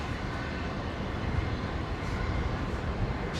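An Airbus A350-900 airliner at Brisbane International Airport, a continuous broadband engine roar and rumble, steady and fairly loud.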